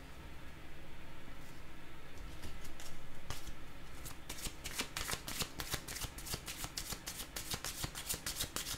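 Cards shuffled for a reading, close and quiet: a soft rustle builds, then a steady run of crisp riffling flicks rattles on for several seconds with no voices.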